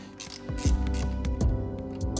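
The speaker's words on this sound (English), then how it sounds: "I'm gonna tighten this one down just a little" A ratchet is snugged down on bolts of the diverter valve on an Audi B9 S4 3.0L V6 TFSI, producing a few soft mechanical clicks and short ratcheting bursts at close range, fairly quiet, with no speech.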